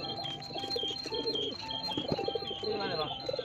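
Pigeons coo and chirp near a market stall in Indonesia while people chat nearby, with a soft flutter and bird calls mixed into steady background voices.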